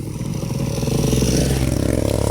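A motorcycle's engine idles loud and close while the bike is moved aside and parked, with a steady low throbbing rumble and some clatter running throughout.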